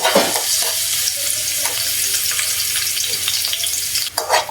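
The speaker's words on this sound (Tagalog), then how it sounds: "Ngayon dito na rin tayo maggigisa ng ating mga rekado. Ilalagay na natin ng ating bawang." Garlic sautéing in oil in a pan for an eggplant and long bean dish gives a loud, steady close sizzle with occasional stirring scrapes and no talk.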